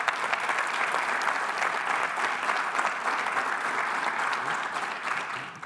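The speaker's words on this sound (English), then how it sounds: "A round of applause for Danny, please." Sustained applause from a convention audience fills the whole stretch, a dense, steady clatter of many hands clapping that tapers slightly at the end.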